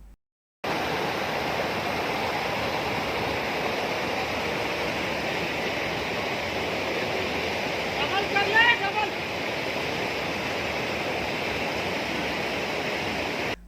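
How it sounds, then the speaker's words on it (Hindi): Floodwater from rivers and streams swollen by heavy rain in Bastar district, Chhattisgarh, roars as a loud, continuous broadband rush, steady throughout with a brief surge near the end. "बस्तर जिले में बारिश से नदी नाले उफान पर हैं।"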